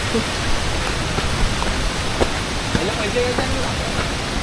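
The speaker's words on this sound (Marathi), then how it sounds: "एवढीच एक धबधबा दाखवायचे" A steady, full-band rush of falling water from a hidden waterfall near Karjat and Bhivpuri fills the whole stretch, with faint voices and a few small clicks underneath.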